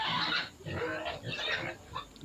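Pigs on a farm grunt and oink in short, close bursts before feeding, several rough calls overlapping in an uneven rhythm with no talking.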